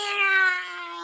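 A human voice imitates a cat's meow in one drawn-out, whiny call with a sliding tone, close and fairly loud, lasting about a second.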